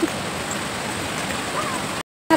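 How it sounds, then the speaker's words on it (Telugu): Forceful waterfall at Siruvani, a dense and steady roar of crashing water heard up close, with faint voices in the background. "వాటర్ ఫాల్స్ అంత ఫోర్స్గా పడుతున్నాయో"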